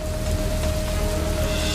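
Heavy unseasonal rain pours down in Rajkot, Gujarat, a loud, constant roar of downpour hitting surfaces, with a faint steady tone running underneath.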